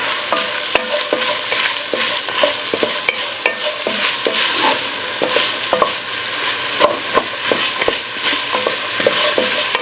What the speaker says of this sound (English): So let's let these onions cook a bit.